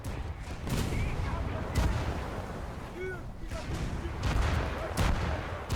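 Heavy naval guns boom repeatedly in the War Thunder video game during a battleship fight, scattered thudding salvos and distant explosions under a continuous rumbling battle ambience.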